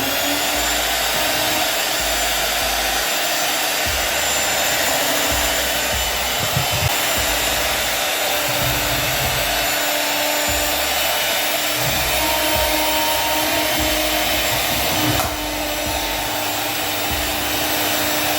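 An electric mixer works Jamaican bread dough in a steady, loud motor whir that lasts throughout, with slight strain and wobble as the dough resists, heard close with no talking.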